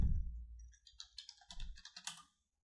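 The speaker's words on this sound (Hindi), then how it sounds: "यहाँ पे लिखता हूँ आस्ट्रा थीम," A short run of crisp keystrokes on a computer keyboard, close and moderately loud, tapping out a brief phrase in quick uneven clicks before stopping.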